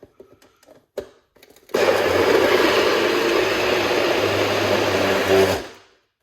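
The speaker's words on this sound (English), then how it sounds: "Let's blend it up." After a few clicks and knocks, a blender full of juice ingredients whirs loudly for about four seconds, a steady grinding motor roar that then winds down and stops.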